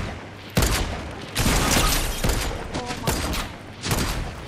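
Semi-automatic sniper rifle shots ring out in the Fortnite video game: a string of sharp, loud cracks spaced irregularly, some in quick succession, over a background of game noise.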